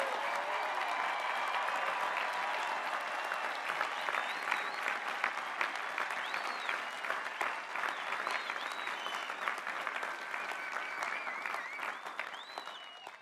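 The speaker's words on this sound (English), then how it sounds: "Hearty applause for all of our graduates." A large commencement audience applauds graduates at a graduate commencement and doctoral hooding ceremony, dense sustained clapping filling the hall and tapering slightly toward the end, with a few faint cheers.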